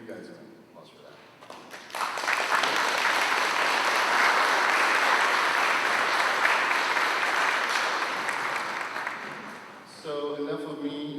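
A crowd breaks into sustained, loud applause lasting several seconds, fading slightly before a voice resumes speaking.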